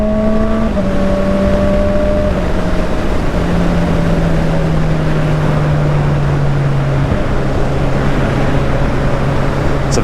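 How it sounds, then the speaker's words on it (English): A Honda CB1000R motorcycle engine drones under heavy rushing wind noise, its tone stepping down in pitch at several points as the quick shifter changes gear, loud and continuous. "quick shifter wise, let off throttle, bring it down, be on throttle,"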